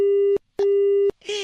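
A phone-call disconnected tone sounds as two loud, steady beeps separated by a short gap, followed by a brief burst of voice.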